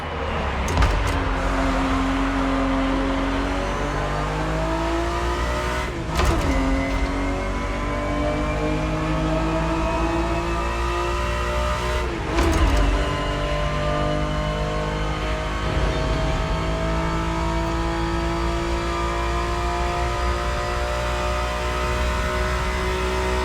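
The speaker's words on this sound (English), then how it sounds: "The Ferrari 365 GTB4 is the perfect vehicle for you to experience Ferrari racing as it felt back in the 70s" A Ferrari 365 GTB4 in a racing video game revs and accelerates through the gears, a loud continuous engine whine that climbs in pitch and drops sharply at each shift, roughly every six seconds.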